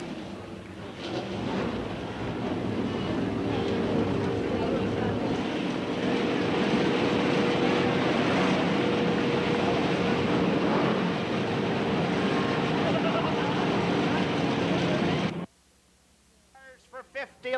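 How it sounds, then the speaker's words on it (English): Race car engines at Eugene Speedway in 1991 roar together as a dense, loud, sustained rumble for about fifteen seconds, then cut off abruptly into near quiet. "Gentlemen, start your engines."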